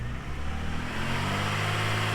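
A Ford Rodeo engine revs in a steady, rough drone, loud and close, with a low rumble and hiss and no voices.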